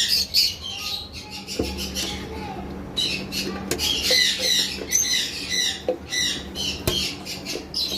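Red-headed lovebirds in a cage squawking and chirping in rapid shrill bursts, overlapping calls throughout with occasional knocks and wing flutters, fairly close.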